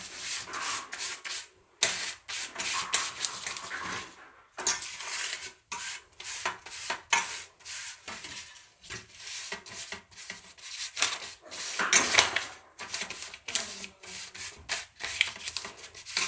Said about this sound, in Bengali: আমি পেপারের উপরে একটু ঘি দিয়ে দিলাম, ঘি দিয়ে সুন্দর করে মুছে নিলাম।